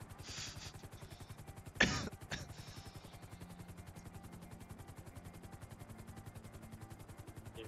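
A video game helicopter, apparently in a GTA-style game, thumps with fast, steady rotor beats throughout, with a cough and a throat clearing near the start.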